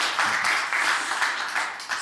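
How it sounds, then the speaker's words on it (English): An audience applauds panelists at a World Economic Forum session on technology and pollution, a brief burst of steady, close clapping that carries evenly from start to finish. "please give them a round of applause."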